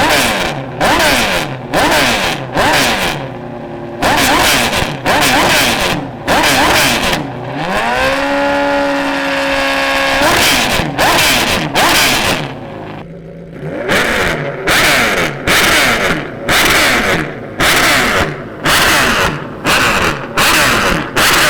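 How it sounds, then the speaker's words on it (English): A V8-swapped mini truck fitted with an F1-style teardrop exhaust revs hard and repeatedly, loud and close, with rapid sharp blips and one long sustained rising rev in the middle. "if this changes the exhaust note like I think it will, it's gonna be even wilder"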